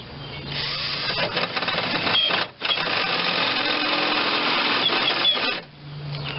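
Power drill with a stripped-out chuck tightening a bolt on a 1992 Geo Metro LSi convertible, a loud whirring motor run with two short pauses where it cuts out and restarts, close up with no voices.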